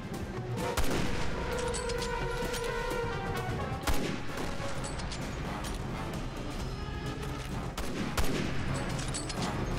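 In the Resident Evil 6 demo, sharp sniper rifle shots crack out roughly three times at spaced intervals over a constant bed of loud battle noise and scattered distant fire.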